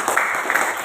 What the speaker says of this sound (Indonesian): Baik, tepuk tangan dulu untuk kelompok ini.